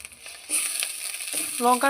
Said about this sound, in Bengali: এবার আমি মশলাটাকে ভালোভাবে ভেজে নিচ্ছি যতক্ষণ না এর থেকে তেল ছাড়তে শুরু করছে